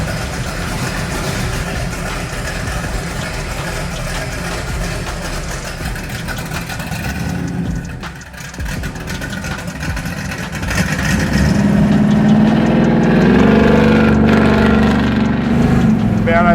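A 1970 Chevelle SS muscle car with nitrous and its exhaust cutouts open, the engine's loud, raw rumble steady while driving and rising to a heavier, harder roar toward the end.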